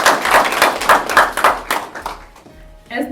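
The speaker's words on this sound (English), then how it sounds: "So a round of applause." Audience applause at a mentorship program graduation ceremony rises in rhythmic bursts of clapping, fading toward the end as a voice begins to speak.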